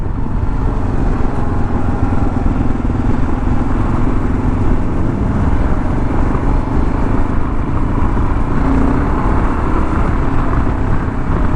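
A 2022 Kawasaki KLR 650 single-cylinder engine runs steadily while riding, a dense, continuous rumble mixed with road and wind noise. It holds at a fairly even level throughout, without talk.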